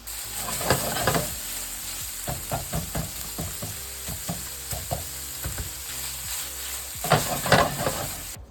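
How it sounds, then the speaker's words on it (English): Seasoned ground beef for tacos frying in a pan: a steady sizzle runs underneath while repeated stirring scrapes and clatters come through in irregular bursts, close and moderately loud, with no talking. "I'm going to cook up the beef and I'll jump back to when it's cooked"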